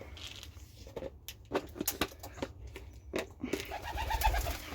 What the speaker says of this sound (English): Yeah, there's birds.